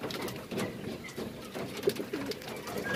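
Pigeons coo softly after being fed, low throaty calls repeating irregularly at close range over a faint background hiss.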